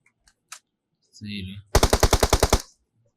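A rapid burst of about nine loud gunshots from the video game BGMI (Battlegrounds Mobile India), preceded by a few scattered clicks and a short mechanical whirr.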